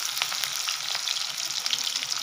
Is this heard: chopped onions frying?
yes